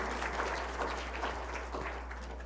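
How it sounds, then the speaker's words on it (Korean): Faint, steady applause from a church congregation welcoming people during a Sunday service, heard at a distance with a low hum running underneath. "박수로 환영합니다"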